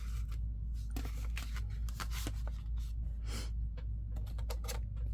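Scissors snip around a piece of lace while making a shabby chic junk journal envelope, a run of close, quiet, crisp cuts in irregular bursts over a steady low hum.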